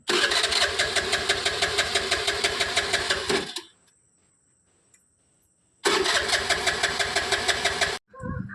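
An engine that will not start cranks and roars loudly in two long bursts, each cutting off abruptly, with a quiet gap between them.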